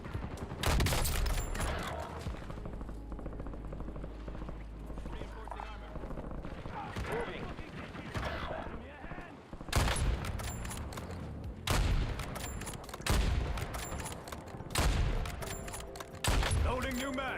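Rapid gunfire in the shooter game Call of Duty: Black Ops 7, dense bursts of loud shots with game noise, while a player talks over them.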